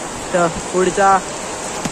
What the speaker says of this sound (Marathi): बघू शकता तुम्ही पाऊस लय आला आहे जोरात